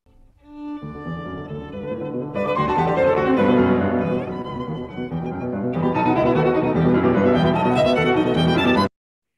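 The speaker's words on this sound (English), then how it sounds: "So here is a clip of, that of a Beethoven sonata that most of us can appreciate" A Beethoven sonata played on piano, a rich, continuous recording with layered chords and melody sustained at steady loudness for several seconds before ending abruptly.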